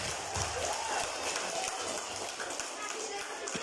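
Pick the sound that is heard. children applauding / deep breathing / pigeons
children applauding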